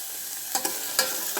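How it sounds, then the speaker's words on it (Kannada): Vegetables frying in ghee in a pan for vegetable soup, a steady close sizzle broken by a few scraping stirs of a utensil, with no voices. "ತರಕಾರಿಗಳೆಲ್ಲ ತುಪ್ಪದಲ್ಲಿ ಚೆನ್ನಾಗಿ ಫ್ರೈ ಆಗಲಿ"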